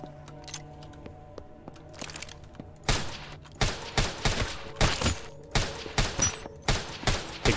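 Rapid bursts of gunfire from shooting zombies in the free-to-play zombie video game Deathly Stillness, starting with a few quieter shots and then loud, regularly spaced volleys after about three seconds, with no speech.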